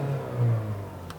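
A 2.5 liter Skyactiv-G turbo engine in a 2019 Mazda CX-9 Signature starts up and revs briefly, a steady low engine rumble swelling mid-way before settling, close and fairly loud.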